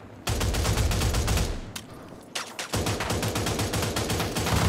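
Automatic gunfire rattles through a first-person shooter match with a Lancer rifle, loud and close in rapid sustained bursts, with a short pause before firing resumes.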